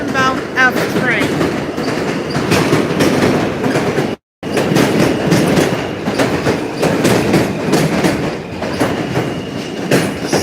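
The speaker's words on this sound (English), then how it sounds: "And there goes the Coney Island bound F train." A Coney Island-bound F subway train rumbles and clatters steadily nearby near Avenue X, with rhythmic wheel clicks and a brief squeal, the noise filling the whole stretch apart from one short gap.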